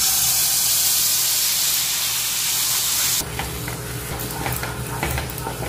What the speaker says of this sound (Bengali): সে পেস্টটা আমি এখন কড়াইতে দিয়ে দিচ্ছি